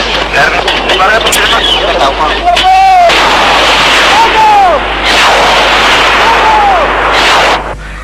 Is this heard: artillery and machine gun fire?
yes